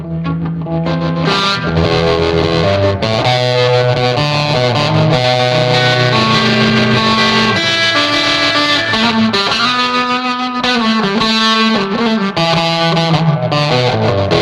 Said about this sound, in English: we're plugging straight into the bass channel on the Blues Breaker with all controls on 10